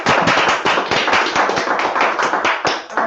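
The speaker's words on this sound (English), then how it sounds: "I just want to give you a round of applause" Dense audience applause after a talk on the crisis in Bolivia, many hands clapping steadily and loudly for about three seconds with no voices over it.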